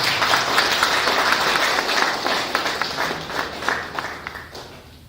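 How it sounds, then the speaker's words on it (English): Seminar audience applause, with many individual claps standing out and rising in a quick patter, then thinning and fading toward the end. "Let's give him a round of applause."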